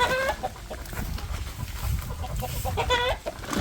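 Chickens cluck repeatedly at close range, with bursts of higher squawks near the start and end over a low rustling background.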